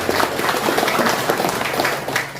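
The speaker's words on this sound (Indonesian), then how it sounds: "Kita beri aplaus untuk beliau." Steady applause from an audience at a regional development planning meeting in Keerom, Papua, honoring the district prosecutor: a dense, continuous wash of many hands clapping at even loudness throughout, with no voices over it.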